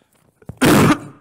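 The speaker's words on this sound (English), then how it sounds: "Sorry, I don't know where to cough because my mic is right here." A single harsh cough from a man seated close to a microphone, short and loud after a moment of near silence and a faint breath.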